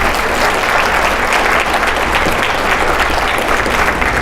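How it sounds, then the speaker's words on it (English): An audience at a keynote talk on ancient and emerging treatments claps in a loud, steady round of applause that continues throughout. "So a round of applause for our Kansans."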